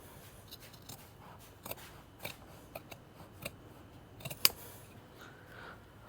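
Snips of scissors or shears trimming material along the bottom edge of wooden trailer bunk boards, a series of short, faint, irregular cuts with one sharper snap near the end, close by with no talking.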